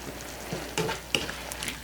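Browned ground beef sizzling in a skillet, with a couple of clinks and scrapes from a utensil over a steady crackle; no voices.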